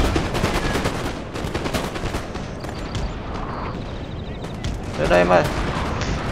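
Artillery barrages and musket volleys in the Napoleon: Total War strategy game, with dense repeated gunfire and booms running throughout, close and loud under excited speech.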